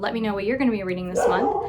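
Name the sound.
dog barking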